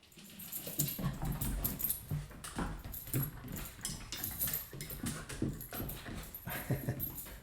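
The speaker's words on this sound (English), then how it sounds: "Happy dog." A happy dog whimpers and whines in short repeated bursts, fairly close, with faint jangling and shuffling around it and no talk.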